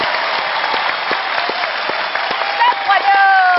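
Applause from a studio audience greeting student guests on a Thai television broadcast, with dense, steady clapping throughout and a brief burst of cheering near the end.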